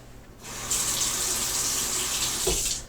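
Cold tap water runs over a PVC katana blade in a workshop build, a steady hissing gush that starts abruptly after a quiet moment and continues for a few seconds with a brief splash near the end.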